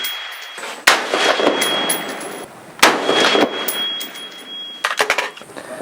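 Rifle shots from an AR-15 or AK-47 fired at steel targets on an outdoor range, several sharp loud cracks spaced a second or two apart, some followed by a faint metallic ring.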